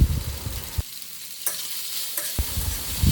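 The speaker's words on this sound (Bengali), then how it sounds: "এবার 5 মিনিট মতো ভালোভাবে ভেজে নেব।" Pasta tossed with pasta masala and pre-fried egg sizzles steadily in a pan, with close spatula stirs and scrapes at the start and end around a quieter stretch of frying.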